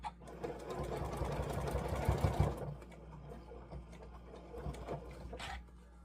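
A sewing machine stitches quilt block seams in a fast, close whirring burst, then slows to a stop and falls to quieter handling noises.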